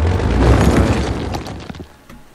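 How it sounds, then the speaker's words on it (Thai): A single loud cannon boom in the video game Cities: Skylines, with a heavy low rumble that decays over about two seconds. "มีปืนใหญ"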